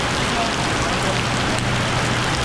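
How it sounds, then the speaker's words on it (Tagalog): Steady, dense rain pours down, a loud, continuous hiss of drops striking surfaces that fills the whole moment with no pauses or voices. "Yung ingay na maririnig mo ay yung ulan lang."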